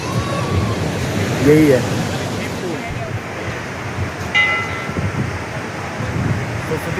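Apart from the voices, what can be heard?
Saraswati river rushing under Bhim Pul bridge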